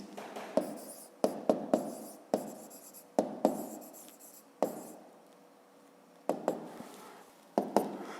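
Pen writing on paper during a fifth-grade math exercise: intermittent scratchy strokes with sharp taps, about a dozen bursts separated by brief pauses, close and fairly quiet.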